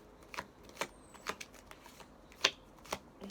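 Tarot cards being shuffled and picked by hand, a series of soft, close riffling flicks and snaps spaced out at an uneven pace, quiet with no talking.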